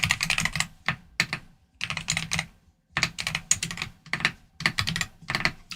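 Bursts of fast typing clatter on a computer keyboard, close and crisp, broken by short pauses between flurries of keystrokes.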